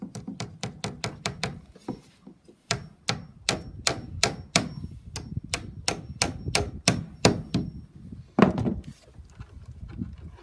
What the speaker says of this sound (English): we'll put some staples in here